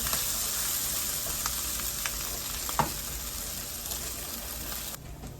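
Food fries in a pan with a steady, fairly soft sizzle, broken by a few scraping taps as it is tossed, and the hiss drops away at the very end; nobody speaks.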